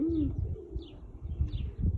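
A pigeon kept alongside quail and rabbits coos softly and repeatedly in low, rolling phrases, joined by a few faint higher chirps from other birds, with a light outdoor background and no talk.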